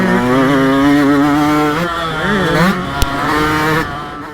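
Yamaha YZ125 and YZ125X two-stroke motocross bikes accelerate together on a track, their engines loud and close, revving up in rising, wavering pitch with a brief bog before pulling away.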